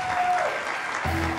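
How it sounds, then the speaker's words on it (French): A television studio audience applauds briefly, with a steady wash of clapping that fills the short moment and no voices heard. "Merci de les applaudir rapidement."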